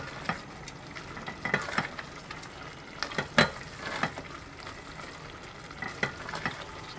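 Tomato sandwich filling for chicken grilled sandwiches sizzles in a pan over raised heat, with a steady soft frying hiss broken by repeated scraping and stirring clicks of a spoon.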